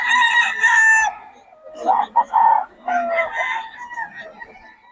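A rooster crows loudly nearby, followed by clucking and another drawn-out crow from chickens close at hand at a market in Bocaue.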